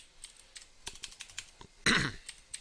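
Scattered keystrokes tapped on a computer keyboard, irregular and close, broken by a brief throat-clearing cough midway.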